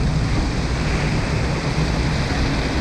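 Waterfall water pouring and splashing onto the queue line of a log flume ride at Parc Saint Paul amusement park in France, a steady, dense, close rushing wash that continues without a break.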